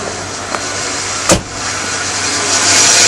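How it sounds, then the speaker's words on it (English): A car engine idles steadily with the air conditioning off, a smooth continuous hum with a brief louder bump partway through and a slight swell toward the end, no talking. "It's idling normally now, air conditioner's off."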